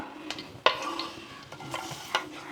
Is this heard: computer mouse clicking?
no